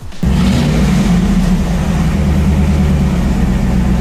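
A Ram HEMI truck engine with a leaking exhaust manifold starts and runs loudly at idle, a deep steady rumble with a rapid ticking, puffing pulse, close by.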